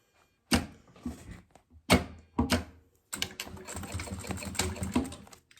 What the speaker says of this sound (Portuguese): Eu já vou vir costurando aqui direto